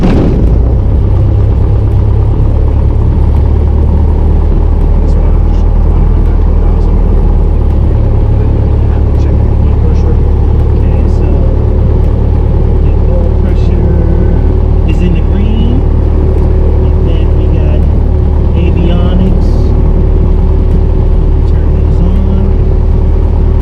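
A small propeller airplane engine on a student pilot's training aircraft runs steadily and loud from start to finish, a constant low droning hum filling the cabin, with people talking over it.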